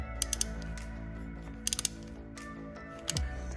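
A socket wrench turns out an exhaust manifold stud, making short bursts of quick ratcheting clicks close up, with quiet pauses between them.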